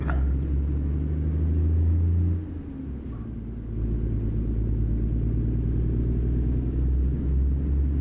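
Heavy truck engine in American Truck Simulator pulling away, a steady deep rumble and low drone that dips briefly around the third second, then settles back into a constant, close and loud hum with no talking.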